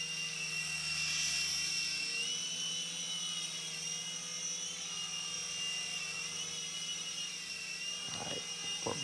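A Sky Rover Vigilante RC toy helicopter flies with a steady, high-pitched rotor whine and motor buzz that holds throughout, with a brief clatter near the end.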